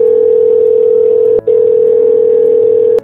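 A telephone dial tone sounds while a call is being placed, a loud, steady electronic hum that breaks off once briefly and then carries on unchanged.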